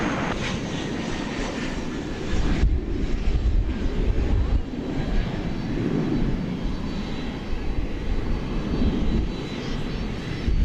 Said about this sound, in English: We've got another UPS plane firing up.